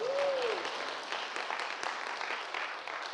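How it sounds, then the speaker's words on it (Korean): A church congregation applauds together, a dense, steady patter of many hands held for about three seconds at moderate volume, with a brief tonal sound at the start. "박수치고."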